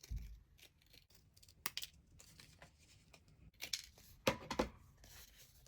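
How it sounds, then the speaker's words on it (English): Scissors snip around a paper heart for a handmade Valentine's card, a scattering of quiet, close cuts and crisp paper rustles separated by brief pauses. "flip it over, and cut around our heart"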